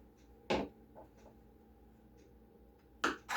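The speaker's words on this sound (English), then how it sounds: "I'm just going to cut these into florets." Kitchen knife cutting broccoli into florets on a board: two distinct, fairly soft chopping knocks about two and a half seconds apart, with faint ticks between them in a quiet room.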